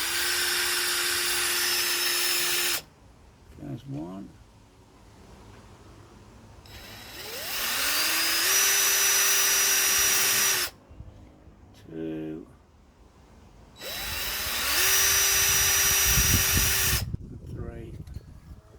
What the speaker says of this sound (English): we're going to drill these 3 holes